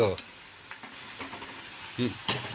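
Beef goes into hot spiced oil in a pan and sizzles and fries as it is stirred, with a close crackle and a few scraping clinks of the utensil, no voices.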